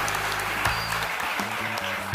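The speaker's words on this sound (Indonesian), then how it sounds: "Tepuk tangan buat Mas Tesi" A brief burst of audience applause at a gathering, moderately loud and steady, with sustained low musical tones humming underneath.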